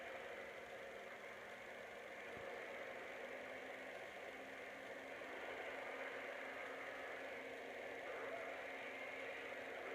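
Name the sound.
Lionel BNSF Genset model locomotive revved up to notch 8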